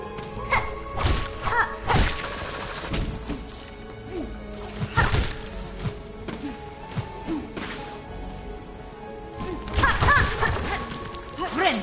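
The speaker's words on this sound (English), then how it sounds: "full HP only to get hit by the explosion anyway" An explosion hitting the player in the game Silksong: repeated heavy thuds and crashing impacts with whooshing swipes over a continuous game soundtrack, loud and busy throughout.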